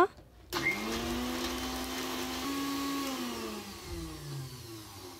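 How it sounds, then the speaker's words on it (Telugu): A kitchen mixer grinder whirs loudly as it grinds garlic cloves and spices into a paste for basmati rice donne biryani, starting abruptly after a short quiet moment and running steadily with a slight shift in pitch toward the end. "తెల్లగడ్డ పాయలు, అలానే వరి వేసుకొని మిక్సీ పట్టుకోవాలి"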